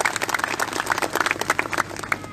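Audience applause at a religious gathering, a brief burst of many hands clapping quickly and fairly close, with faint voices mixed in.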